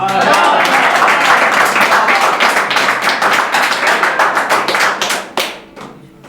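An audience at a Hindi poetry recital breaks into loud, close applause, dense clapping that gradually thins into scattered individual claps before fading out.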